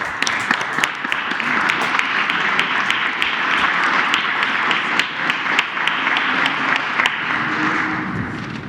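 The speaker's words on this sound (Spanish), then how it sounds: "Un aplauso." Audience at a Mexican government minimum-wage announcement breaks into sustained applause, dense clapping that runs steadily for several seconds with sharp individual claps standing out, then begins to thin toward the end.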